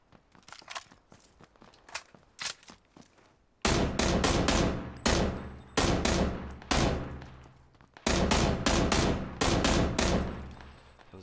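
Bursts of automatic gunfire in PUBG, with an M16 in use: quieter scattered shots at first, then loud sustained rapid volleys broken by short pauses, close and dominant throughout.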